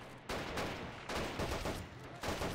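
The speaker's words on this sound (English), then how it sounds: "They're totally shooting him down." Battle gunfire in the World War II strategy game Men of War: Assault Squad 2, Pacific campaign in Borneo: a dense, continuous wash of rifle and machine-gun fire that swells in several surges, with no talking.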